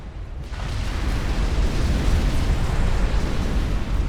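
Nuclear strike in the real-time strategy game Supreme Commander detonates as a massive, sustained roaring rumble that swells quickly and stays loud and dense for several seconds.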